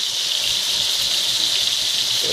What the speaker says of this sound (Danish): Kartoflerne koger.